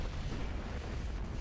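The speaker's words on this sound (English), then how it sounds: "Oh, we got a torpedo hit there." Continuous low rumbling explosion from a torpedo hit on a warship in the naval battle game Ultimate Admiral: Dreadnoughts, a dense steady roar with no clear separate blasts.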